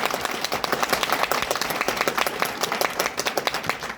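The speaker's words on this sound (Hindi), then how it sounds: "जोरदार तालियां।" A crowd at a direct selling company event at the Holiday Inn Resort in Budhanilkantha, Kathmandu, gives loud, dense, sustained applause, many hands clapping together close by for several seconds.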